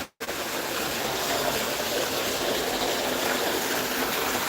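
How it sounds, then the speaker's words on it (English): Steady gushing of running water from a public water source at the Smyrna Agora in Izmir, loud and continuous after a brief silent start, with no talk. "Look at this water source."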